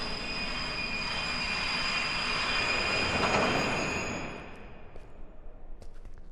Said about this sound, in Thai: รถไฟมาเหรอ